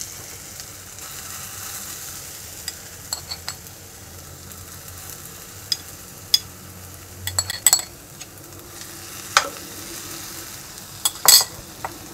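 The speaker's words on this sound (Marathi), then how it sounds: "कढई मी ठेवलेली आहे गॅसवर आणि त्याच्यात मी हे किसलेली कैरी, ज्याला आपण हळद आणि मीठ लावलं होतं," Grated raw mango cooking in a kadhai on a gas stove gives a faint low sizzle with scattered metallic clinks and scrapes of a spoon that grow busier toward the end, close by and with no voices.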